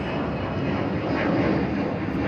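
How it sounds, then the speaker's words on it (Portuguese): An airplane passing overhead gives a broad, steady engine roar that swells slightly midway through, loud and continuous with no talking. "Olha o avião."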